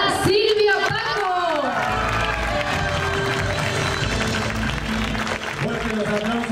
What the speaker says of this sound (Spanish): Fuerte los aplausos para la profesora y para los jóvenes ganados también